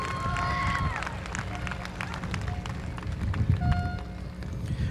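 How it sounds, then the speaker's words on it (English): Audience at the Edcouch-Elsa High School Class of 2023 graduation ceremony applauding steadily, with whistles and shouts rising over a dense wash of clapping that holds for the whole stretch. "Let's give her another huge round of applause for that wonderful message."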